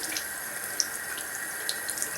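Warm tap water runs steadily from a faucet into a sink while a makeup sponge is wetted and squeezed, giving a continuous hiss with a few small splashes and drips.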